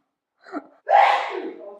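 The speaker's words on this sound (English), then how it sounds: "I was telling you to quit sneezing because I'm trying to film." A person sneezes close by: a short sharp intake of breath, then one loud explosive sneeze trailing off.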